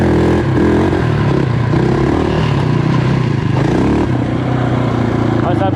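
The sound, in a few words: quad bike engine accelerating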